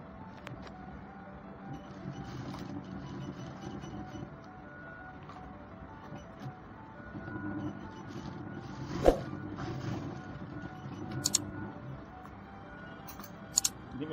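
A sewing machine runs a stitch along Isiagu fabric, giving a low, steady mechanical hum throughout with a few brief sharp clicks near the end, fairly quiet and with no talking.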